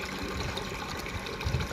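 Drilling fluid drains out of a freshly drilled water well bore in a continuous rushing gush, steady and fairly loud throughout with no voices.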